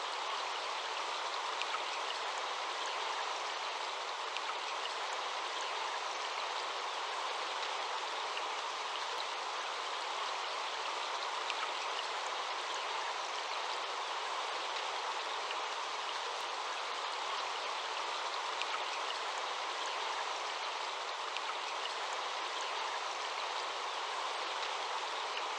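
Steady, fairly quiet rush of flowing stream water, a continuous even wash of gurgling and splashing with no pauses and no other sounds.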